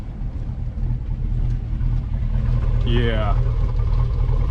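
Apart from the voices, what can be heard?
Chevrolet Suburban 2500 engine idling rough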